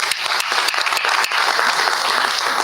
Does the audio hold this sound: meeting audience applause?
yes